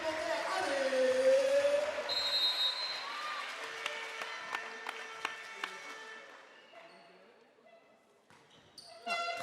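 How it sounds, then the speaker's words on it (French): Spectators applaud at a women's volleyball match in a gym, clapping under an announcer's amplified voice, followed by sharp ball strikes and thuds of play echoing in the hall. "Allez, mesdames, messieurs, applaudissements pour les filles ce soir."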